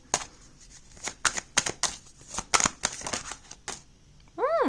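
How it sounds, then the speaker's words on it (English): Tarot cards shuffled by hand, a quick run of crisp riffling flicks and slaps in irregular bursts, close and clear, with no talk. "I'm going to put it back and shuffle one more time"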